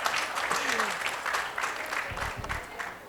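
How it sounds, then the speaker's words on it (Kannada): An audience claps together during a talk on farming and cooking, a loud, dense burst of clapping with a little low murmur beneath. "ಚಪ್ಪಾಳೆ."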